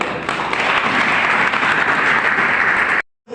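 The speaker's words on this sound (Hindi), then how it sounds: "इस हॉल में बैठने के लिए जोरदार तालियां" An audience packed into a hall claps loudly and continuously for about three seconds before the sound cuts off abruptly.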